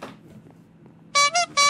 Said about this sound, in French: c'est pas moi qui klaxonne